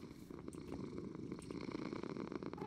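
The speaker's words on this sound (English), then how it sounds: "Aw, look at the cat." A cat purring in Minecraft, a soft steady low rumble that runs continuously and fairly quietly with no talk over it.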